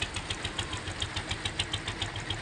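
A trawler boat's engine thumps steadily as it docks at Karamjal ghat in the Sundarbans, a close, regular chugging pulse with no voices.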